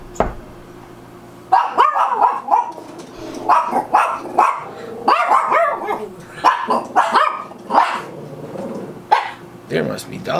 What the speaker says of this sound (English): There must be dogs inside.